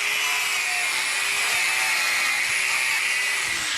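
A DualTools CS450 compact saw cuts through wood trim molding with a steady, loud, high-pitched whine that stays unbroken and close for the whole stretch, with no talk over it.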